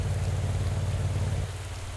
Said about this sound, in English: Today's race will be run under pouring rain.